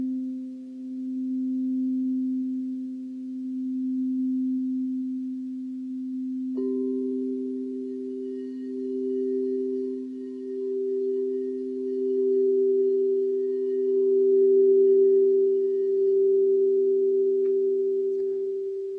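Sustained pure tones used in a bio-energy healing session: one low steady note hums alone, then a second higher note joins and both hold together, smooth and even with gentle swells, with no voices.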